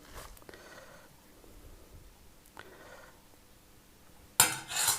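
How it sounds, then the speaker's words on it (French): A spoon mixes cabbage for kimchi in a bowl, giving faint scattered clinks and soft scrapes against the bowl, then a louder rustling burst at the end. "Je commence à mélanger à la cuillère et après je termine avec les doigts"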